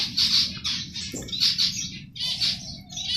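Birds in an aviary reserve, near a nest, give bright repeated chirps and tweets in short bursts with brief gaps, close and clear with no talk.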